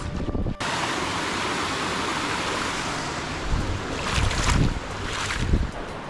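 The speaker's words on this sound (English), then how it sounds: "there's actually a little waterfall" A small waterfall in a desert oasis pours in a steady, broad rushing roar close by, continuous throughout with a few louder swells of wind or splashing and no speech.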